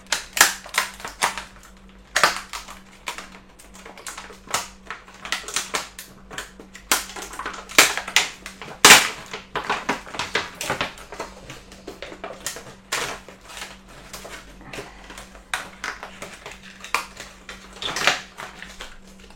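Packaging of a Styro Cutter Plus foam cutter is torn and opened up close, with irregular crinkling, snapping and crackling bursts over about twenty seconds and a faint steady hum beneath.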